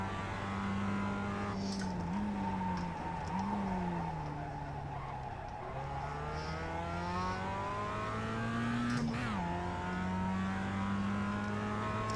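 A roadster race car in the iRacing sim roars through a lap, engine note rising and falling with gear changes and lifts, layered with tire squeal and skidding, loud and continuous with no voices.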